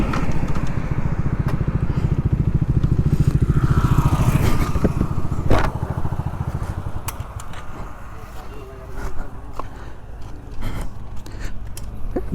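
A KTM Duke 250 BS6 motorcycle fitted with an Akrapovic underseat exhaust runs nearby, a low engine rumble that is strongest early on and eases toward idle, heard under people talking.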